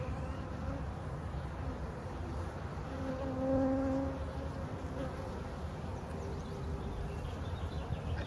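Honeybee swarm moving into a Layens hive box, a dense, close, continuous buzzing drone of many bees, with a few individual bees whining louder as they pass near, no talking.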